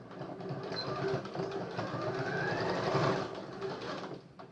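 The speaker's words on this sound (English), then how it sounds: "I'm going to go straight in on the machine and sew over it" A sewing machine runs steadily, top-stitching through a fabric phone case, its dense mechanical whir continuous and close for the whole stretch with no pauses.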